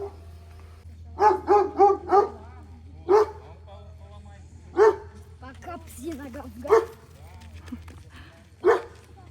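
A dog barks repeatedly at close range, a quick cluster of barks followed by spaced single barks over a low steady hum.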